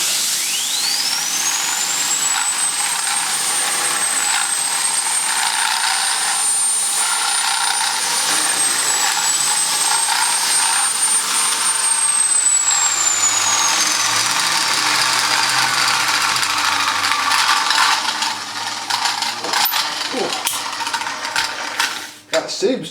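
An Electrolux vacuum cleaner runs as a buffer through a 32mm tool attachment, giving a loud, continuous motor roar with a thin high whistle that rises and holds for most of the clip before the sound breaks up near the end.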